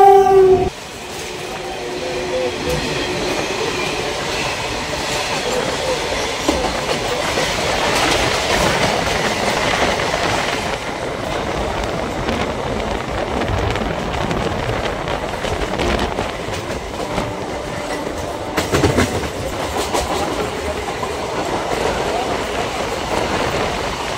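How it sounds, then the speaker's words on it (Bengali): A freight train rumbles past a waiting memo train, a broad roar swelling as wagons clatter by for over twenty seconds, loud and continuous, with a brief horn note at the start. "মাল গাড়ি আসছে।"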